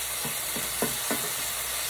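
A cube steak fries in a hot pan over medium-high heat, giving a steady low sizzle broken by a few short stirring or scraping bursts, with no voices.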